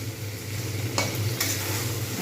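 Prawns cooking in spice masala in a pan give a steady close sizzle, broken by a couple of brief scraping strokes from a stirring spoon.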